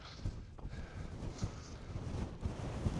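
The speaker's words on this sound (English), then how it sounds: "it's very windy" Strong wind buffets the microphone on an open hilltop, a rough continuous low roar with gusty swells and no voices.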